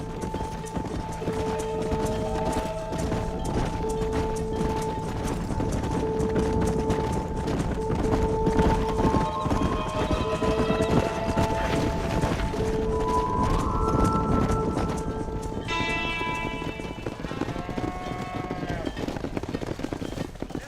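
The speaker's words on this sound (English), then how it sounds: "Now we need to move this entire herd out to the far pasture for grazing." Hooves of a horse herd clip-clop steadily while driven out to pasture on a ranch in Red Dead Redemption, a dense, continuous trampling under game music and occasional voices.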